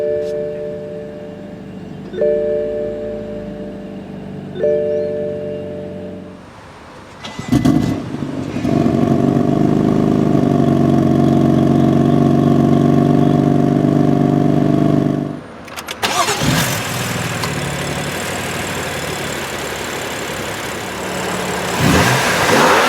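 2015 BMW M3 sedan fires up after a few dash chimes, catching with a loud bark, then settling into a rumbling idle, with sharp throttle blips and a deep, steady exhaust growl close by.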